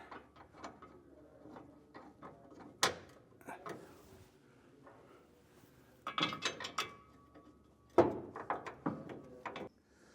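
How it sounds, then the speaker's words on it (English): Metallic ratcheting clicks and clanks while B&W Turnoverball underbed gooseneck trailer hitch bolts are hand-tightened under a truck bed, irregular close clatter with a few louder knocks. "We've got all those bolts just hand tight, just kind of screwed in there"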